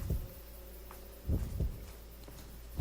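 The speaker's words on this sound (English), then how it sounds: "It's doing a heartbeat thing." In the horror game Fatal Frame 2, a low, muffled heartbeat thumps in slow paired beats over a faint background hum.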